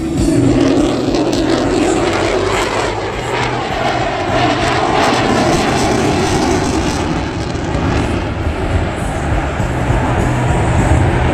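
A military jet roars past at the Bethpage air show at Jones Beach, a loud, continuous engine rumble and whine lasting throughout, close and dominant.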